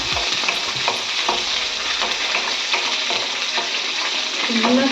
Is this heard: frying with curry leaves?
yes